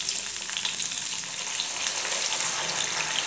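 A cup of water poured into a hot pan of drumstick curry hisses and sizzles, a bright continuous crackle with bubbling beneath, close and fairly loud.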